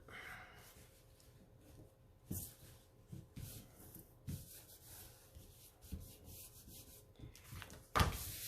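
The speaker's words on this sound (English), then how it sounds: "Okay, we'll rub that down." A small wooden nativity craft piece is rubbed down by hand, giving soft, intermittent scraping strokes, quiet and close, with a brief louder knock near the end.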